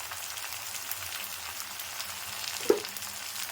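Onions, garlic and tomatoes sauté with salt in a pan for an okra and peanut curry, giving a steady close sizzle throughout with one brief clink near the end and no talking.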